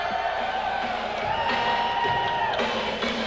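Fans in a convention center arena cheer and whoop at an indoor arena football game between the Bossier-Shreveport Battle Wings and the Tulsa Talons, a steady, loud crowd roar with a sustained tonal sound running through it.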